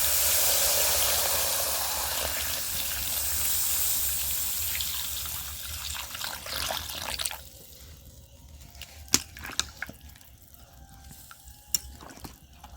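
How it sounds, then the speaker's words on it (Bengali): Water poured into a pan of frying potatoes for aloo dum, a loud hiss and sizzle that gradually settles into softer bubbling with a few sharp clinks of a utensil. "এবার দেবো জল।"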